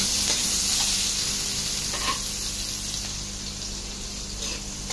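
Garlic and onion sauté in oil and butter in a pan, a continuous soft hiss and sizzle close by, with a few light clinks and no talking.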